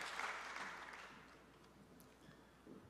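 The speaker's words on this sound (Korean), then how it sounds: "다시 한번 큰 축복의 박수로 격려해 주시기 바랍니다" A church congregation claps during a worship service. The applause starts strongest and then fades gradually over a few seconds into a softer, scattered patter.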